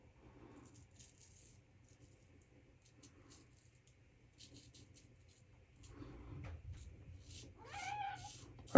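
A cat in a bathroom meows near the end, a rising mewing call after quiet shuffling and rattling sounds, with a sharp knock closing the clip.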